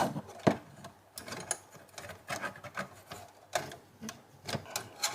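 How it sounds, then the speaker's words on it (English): Small screws being unscrewed from the inside of a 1979 Yamaha K-1a cassette deck, with faint, close scraping, clicks and light metallic taps in an irregular rhythm, no talking. "Now to disconnect we need to unscrew this."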